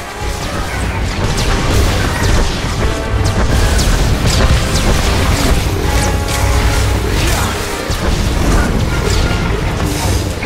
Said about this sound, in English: Another swing from the Annihilation droid's cannon sends the Juggernaut flying